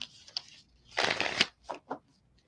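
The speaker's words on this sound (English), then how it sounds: "Let me pull some cards for you" Tarot cards are shuffled up close: a few light flicks, then a dense riffling burst, followed by two or three quick soft slaps, with no voice.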